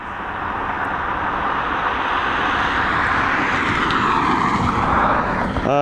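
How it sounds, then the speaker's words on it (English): A Transavia airliner taking off from Dublin Airport, a loud, steady jet roar that builds and stays broad and powerful throughout, with no voices. "There we go, that Transavia flight up and away."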